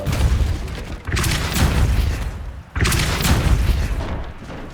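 The Depulso spell in the video game Hogwarts Legacy fires two loud, booming blasts about two seconds apart. Each has a sharp onset and a rumbling decay, with no talk over them.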